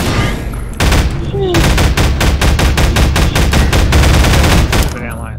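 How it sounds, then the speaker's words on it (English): Rapid, loud automatic gunfire in the Garry's Mod video game, a dense stream of evenly spaced shots that runs almost the whole time before stopping abruptly. "I'm in first-person and I'm shooting you!"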